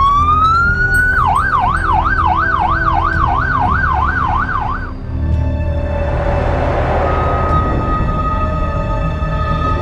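An ambulance siren wails loud and close, first rising, then warbling rapidly for several seconds before switching to a slower tone as traffic noise rumbles underneath.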